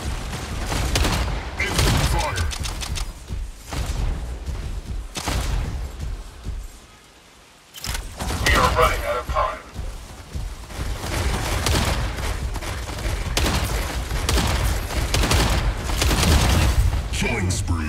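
Dense, continuous mech gunfire from the Mech Arena video game, a steady barrage of rapid shots and booms with one brief lull, loud and close.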